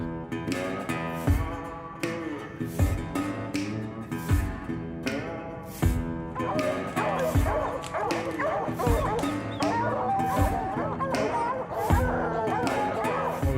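Several hunting dogs bark and yip excitedly close by at a spring bear hunt near Mattawa, overlapping in a busy chorus with some whining, with faint voices mixed in.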